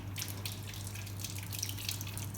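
Tap water runs and splashes steadily as hands are rinsed at a sink, with scattered drips and splatter over a constant low electrical hum, close and moderately quiet, no talking.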